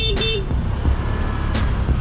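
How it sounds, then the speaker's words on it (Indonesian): Dense road traffic with cars, buses and motorbikes packed together, a steady loud roar of engines close by with a couple of brief horn toots. "ini posisinya kendaraan bener-bener padat banget ini orang-orang"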